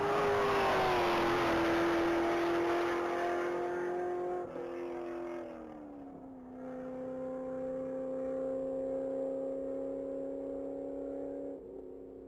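A 2007 Corvette Z06 driven on a straight-mile racetrack, its engine a loud, sustained tone that climbs through successive gear changes, each shift dipping the pitch before the next pull, close and steady with no talk.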